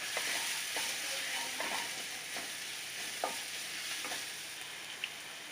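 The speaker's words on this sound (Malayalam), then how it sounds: "എല്ലാം കൂടി ഒന്ന് വഴറ്റിയെടുക്കാം." Paneer biryani masala with garam masala sautéed in a pan: a steady, loud hissing sizzle with a few soft scraping stirs, close up and without speech.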